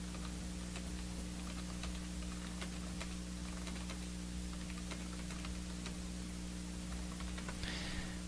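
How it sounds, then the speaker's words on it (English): Someone types on a computer keyboard, a run of faint, quick clicks that are irregular and sit beneath a steady low electrical hum throughout. "Oh, he's typing."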